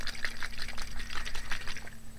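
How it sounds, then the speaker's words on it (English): A bottle of glycerin and water is shaken by hand, giving rapid rhythmic sloshing and splashing of liquid close by, with no voices. "Put my lid on and give it a good shake."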